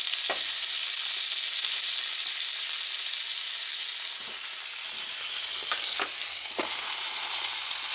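Chicken legs and thighs sizzle on a George Foreman electric grill, a loud, close, continuous hiss with a few sharp pops and crackles, no voices.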